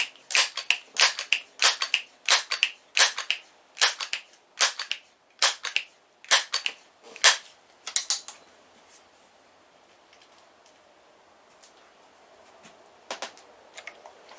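A Crosman 1377 air pistol is pumped about ten times and fired with a Premier pointed pellet, producing a string of sharp, evenly spaced clicks and clacks at close range that stops partway through, followed by a quiet stretch and a few faint taps.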